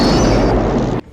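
Fuel barrels blow up inside an undersea cave in a loud, roaring blast. The rumble holds for about a second, then stops abruptly.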